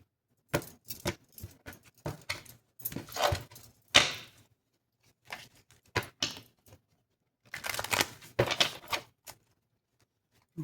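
Tarot cards being shuffled by hand in bursts of crisp riffling and slapping, several separate rounds with brief pauses between them, close and fairly quiet with no talking.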